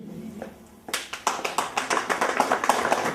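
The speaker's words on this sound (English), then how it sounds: "Can you give them a better round of applause?" Audience members at a school alumni association launch clap for certificate recipients. Sparse claps at first, then distinct, fairly rhythmic hand claps build into a steady, moderately close round of applause.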